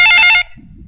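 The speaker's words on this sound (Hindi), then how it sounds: "किसका फोन था?" A telephone in a Hindi movie rings with a single brief electronic trill that cuts off abruptly, followed by faint low room noise.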